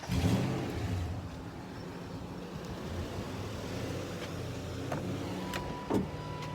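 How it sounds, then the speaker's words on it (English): A Chevy K1500 pickup truck engine idles and rumbles steadily at close range, with a small rise in revs near the end and a few faint clicks. "So fire that up, and then let's give her some revs, a couple thousand RPMs maybe."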